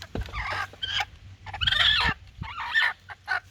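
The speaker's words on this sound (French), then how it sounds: "Et donne-moi le coq là." A rooster in Benin gives several loud, harsh squawks and clucking bursts at close range, separated by short pauses.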